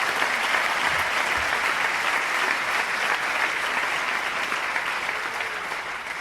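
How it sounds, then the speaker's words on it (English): Sustained applause from a large audience at a high school graduation ceremony, a dense, even wash of clapping holding steady for several seconds and easing slightly at the end. "It's worth an applause, right?"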